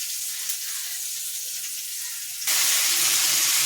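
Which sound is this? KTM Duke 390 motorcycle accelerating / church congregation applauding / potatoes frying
potatoes frying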